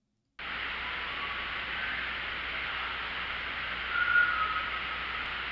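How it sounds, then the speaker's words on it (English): Faint whistling inside a mansion picked up on an audio recorder, a thin, steady tone rising briefly around the fourth second over a constant hiss of static and background noise, with no voices present. "That's the whistle."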